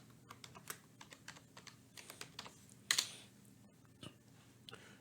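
Rapid clicking of keys on a computer keyboard as a password is typed, a quiet run of light taps with one louder clack near the middle, close by and with no talking.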